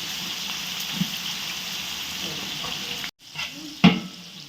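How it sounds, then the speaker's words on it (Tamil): Onions frying in oil and ghee in a large pot for chicken biryani, a steady close sizzle with a brief stir and a clunk near the end. "நல்லா பொன் வறுவலாக வறுத்து அழிச்சிருவோம் வெங்காயத்தை."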